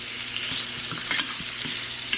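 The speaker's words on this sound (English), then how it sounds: "So I mix the onions and peppers in with the steak." Steak with onions and peppers sizzles hard in a hot pan, a steady bright hiss broken by a few soft scrapes and taps as it is stirred close by.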